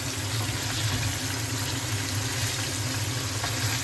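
Australian oyster blade steak pre-fries in a pan, giving a steady, close hiss and crackle of sizzling fat that runs unbroken with no voices.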